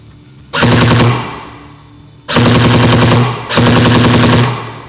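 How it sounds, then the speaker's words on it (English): A modified tactical AK airsoft gun, tuned for a higher rate of fire with a quieter, less screechy motor, rips off three loud, close full-auto bursts of about a second each, separated by short pauses. "Now the motor sounds a lot more quiet and less screechy, and we're getting a higher rate of fire out of this."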